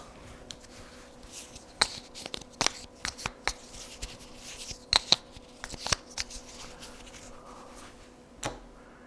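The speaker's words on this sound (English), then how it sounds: "Alright, so I'm going to shuffle those." Eldritch Horror board game cards are shuffled by hand in a quiet room, a run of soft riffling bursts and sharp card snaps spread over several seconds, close and fairly faint.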